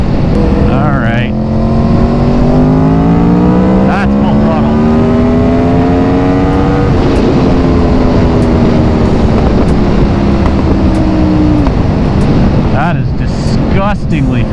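An Aprilia Tuono V4 motorcycle engine pulls hard at partial throttle, a loud, sustained roar climbing steadily in pitch over several seconds, dropping briefly at a shift, then rising again amid heavy wind rush.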